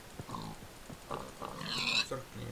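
A Minecraft pig grunts in a series of short, nasal oinks, fairly close and clear, with no voices over them.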